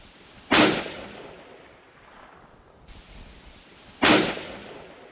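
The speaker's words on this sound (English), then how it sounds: "take some shots at this, see where we need to go, and I'll adjust my aim accordingly." Two sharp gunshots fired at a target while sighting in a red dot on a rifle, each a loud single crack a few seconds apart with quiet ambient noise between.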